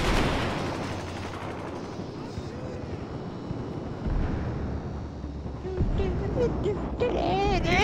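Loud gunfire and blasts from a flashbang in the video game Battlefield 4 fill a dense, rumbling wash of combat noise, with players talking over it.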